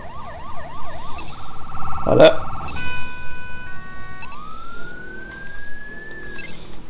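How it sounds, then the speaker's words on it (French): American-style ambulance sirens in the video game Garry's Mod cycle through several tones: a fast warbling yelp, steady electronic tones, then a long rising wail, loud and close, with a brief spoken word. "Vu qu'elle a plusieurs sirènes."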